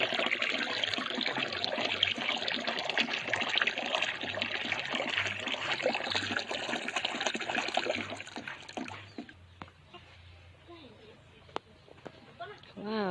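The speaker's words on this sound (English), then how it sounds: "We have water here from the well. The water here is overflowing." Well water overflows and splashes in a steady trickling stream for about nine seconds under a low hum, then fades to faint drips and quiet background.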